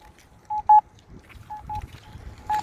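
A Campbell accessible pedestrian signal crosswalk button sounds short electronic tones, two quick beeps, then a pair, then another beep, distinct over quiet street background.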